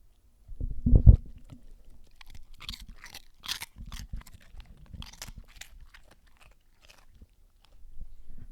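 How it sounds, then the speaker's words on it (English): A dog crunches and chews Cheetos up close, with a loud first bite followed by steady, softer munching and small mouth sounds in a quiet room. "at least you got to hear him chew his Cheetos"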